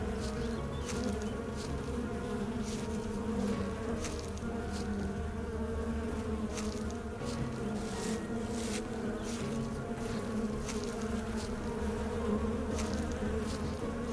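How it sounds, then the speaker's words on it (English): A continuous insect buzz from the horror dating game Sucker for Love drones steadily and fairly loudly for the whole stretch, with no voices over it. "You're gonna hit me with buzzing again?"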